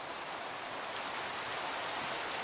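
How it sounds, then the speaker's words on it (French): Rain in the Minecraft video game hisses as a soft, even, continuous patter with no breaks or voices. "Pourquoi il y a autant de pluie dans un seul chunk?"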